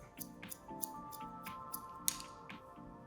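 Scissors snip repeatedly into small sections of hair while a round bob is being cut, making short crisp clicks in quick succession, close and quiet.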